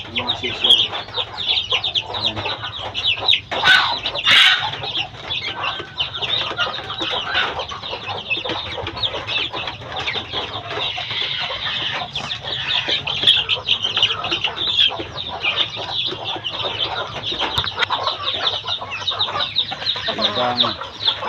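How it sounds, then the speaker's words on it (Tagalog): Chicks separated from a mother hen peep and cluck at close range as they eat a meal of greens, with dense chirping running continuously over a farmyard background and occasional louder calls. "Yung sisiw."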